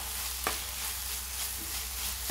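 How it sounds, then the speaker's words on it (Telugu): Ginger garlic paste frying in a pan gives a continuous, even sizzle, with a single sharp clack of stirring early on and softer scrapes later. "ఇప్పుడు ఇందులో కొంచెం అల్లం వెల్లుల్లి పేస్ట్ వేసుకోవాలండి. 2 నిమిషాల పాటు బాగా వేగనివ్వాలండి."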